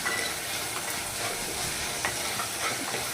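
Tomatoes frying with masala in a pan give off a steady, dense sizzle and hiss throughout, with faint stirring scrapes underneath.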